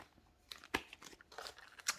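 Plastic bags holding board game pieces and tiles crinkle and crunch as they are handled, with irregular sharp rustles close by in a quiet room.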